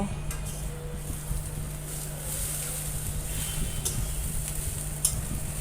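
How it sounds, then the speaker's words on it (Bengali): Water spinach fries in a pan with lentil dumplings, a steady close sizzle under occasional stirring scrapes and a couple of sharp utensil clicks against the pan, with no talk. "আবারও কিছুক্ষণ পরে নাড়াচাড়া করে নেব"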